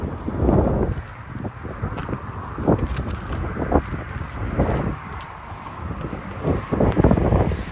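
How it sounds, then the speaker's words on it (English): Gusty wind buffets the microphone on a walk along a suburban avenue in Etobicoke North, steady and loud, with low rumbling surges and no talking. "maybe I would have been bothered even less if there was no wind"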